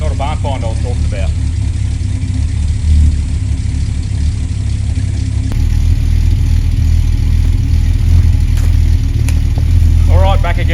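Holden Monaro limited edition coupe warming up, a low steady engine idle rumbling throughout with a brief voice now and then.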